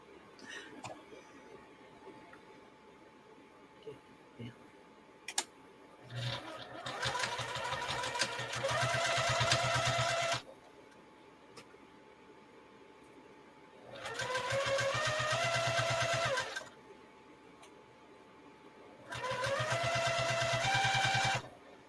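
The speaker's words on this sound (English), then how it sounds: "let's go sew this down now" A sewing machine sews down the pocket of a zippered carry-all bag in three sustained runs with quiet gaps between, close and steady; a few handling knocks come before the first run.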